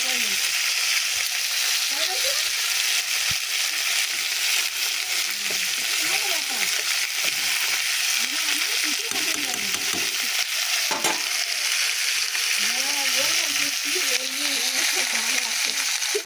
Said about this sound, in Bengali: ভাতটা নাড়া দেবো দাঁড়া।